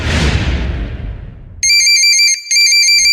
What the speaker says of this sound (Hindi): सुबह फोन बजने की आवाज से